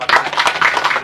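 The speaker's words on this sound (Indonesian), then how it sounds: "Tepuk tangan dulu Pak." An audience at a farming school event claps for a speaker, a loud and close burst of dense hand clapping that lasts about a second.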